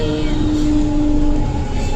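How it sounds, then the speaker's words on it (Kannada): A Bangalore metro train running, heard from inside the air-conditioned carriage as a steady, loud rumble with a sustained motor whine throughout. "ನಾನು ಬಂದು ಇವಾಗ ಮೆಟ್ರೋನಲ್ಲಿ ಕುತ್ಕೊಂಡಿದ್ದೀವಿ."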